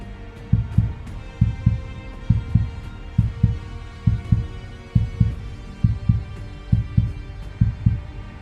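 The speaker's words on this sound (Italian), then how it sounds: "Poi un battito. Lento. Pesante. Come un cuore dall'altra parte." A slow, heavy heartbeat thuds in steady paired lub-dub pulses, deep and close, repeating evenly with no other sound around it.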